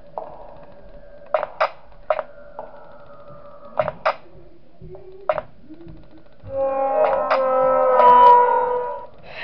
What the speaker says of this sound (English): I hate that door opener sound.